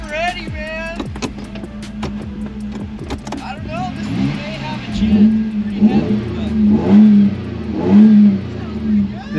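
A Toyota Tacoma V6 engine revs at a starting line in a truck race, rising and falling in close, loud surges while someone talks over it.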